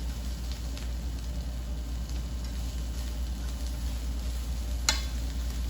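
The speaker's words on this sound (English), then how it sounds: "Hear that sizzling. I'm just going to let it pan fry, kind of get up high temperature," Okra pods pan frying at high temperature in a shaken pan give a steady, dense sizzle throughout, with a brief sharper crackle near the end and no talking.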